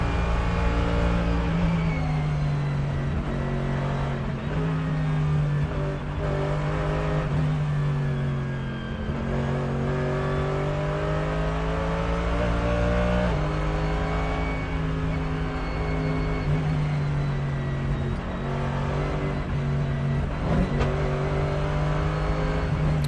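Race cars at the Nürburgring 24 Hours roar steadily and loudly, their engine notes rising and falling as they accelerate, shift and pass one after another over a continuous mechanical din.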